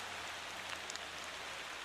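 Rainfall in the Motortown driving game, a constant broadband patter of drops with a few faint brighter ticks, steady and alone without speech.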